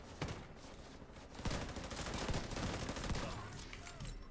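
Enemy gunfire in The Division 2, a dense fusillade of rapid shots and bursts close by, rattling continuously with sharp louder cracks throughout.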